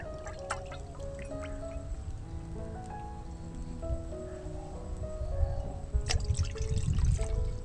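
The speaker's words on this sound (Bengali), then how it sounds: "দু কাপ জল দু কাপ চালের গুঁড়ো নেবো তাই জন্য দু কাপ জল দেবো" Two cups of water poured steadily from a measuring cup for rice-flour pithas, a continuous close trickle and splash that swells louder toward the end, with no talk over it.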